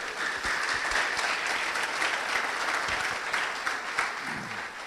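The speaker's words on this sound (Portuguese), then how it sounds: "Pode aplaudir ao Senhor." Church congregation applauding the Lord during an Easter sermon, a steady wash of clapping from many hands filling the room for about five seconds, with a faint voice near the end.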